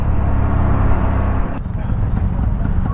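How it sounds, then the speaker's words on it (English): Dense city traffic jam in India heard from a motorcycle: a loud, steady rumble of idling and creeping engines, thick and close, easing slightly partway through. "I'm stuck in this traffic jam since last 5 to 10 minutes."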